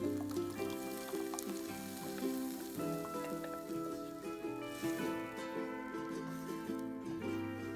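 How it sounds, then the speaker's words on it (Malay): Blended gongura greens poured into a wok and stirred, giving a soft sizzle that sits under steady background music throughout. "Ini sayur yang kita blender tadi. Kita tuangkan ke dalam kuali dan kacau rata."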